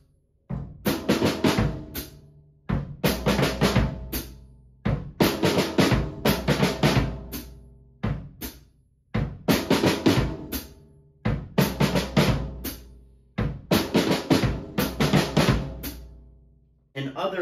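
A drum kit plays a repeating 3/4 waltz pattern in short phrases separated by brief pauses, with kick, snare and cymbals, loud and close.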